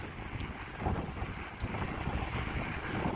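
Steady wind roars and buffets the microphone along a smooth cycle and pedestrian path through a mountainside between New Tredegar and Abertysswg, a dense low rumble running continuously with slight gusting swells.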